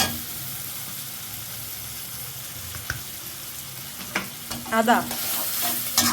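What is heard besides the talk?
garlic and ginger frying in a pan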